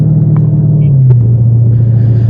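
A 717 hp Dodge Hellcat gives a steady, deep engine rumble from inside the cabin as it pulls forward, its low drone easing slightly lower partway through, with no talk over it.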